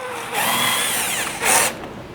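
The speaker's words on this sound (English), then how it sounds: "so I can get in there with the drill. I'm going to take this screw off of here." A power drill whirs in two bursts, driving out a screw from the brace of a vinyl fence gate, with a brief pause between runs and the second burst higher and louder.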